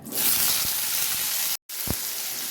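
Potato and eggplant pieces dropped into hot oil with dried chillies and five-spice seasoning give a loud, even hiss of frying, broken once by a brief silence and a soft clunk.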